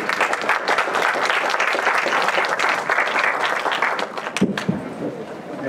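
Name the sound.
applause for the team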